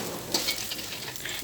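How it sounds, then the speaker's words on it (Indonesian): Shallots, garlic, onion and chili stir-fried in a pan as seasoning for a carrot and green bean dish, a steady close sizzle with a few scraping stirs. "Dan ini aku mau gongso dulu untuk bumbunya oseng wortel buncis ya."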